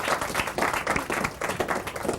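An audience at a national bravery awards ceremony claps loudly and steadily throughout, a dense, continuous round of applause.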